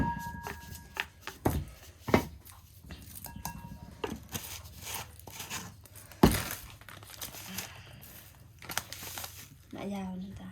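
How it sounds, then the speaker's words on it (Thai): Jaew, a chili dipping sauce, pounded in a mortar, giving irregular dull thuds and crunchy crinkling at close range, with voices chatting nearby. "ขั้นตอนการตำแจว"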